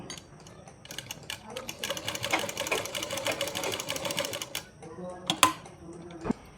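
Sewing machine stitching fabric for a designer jacket, a close, steady rapid run of mechanical clatter lasting several seconds, then a pause with a few sharper clicks and knocks as the work is handled.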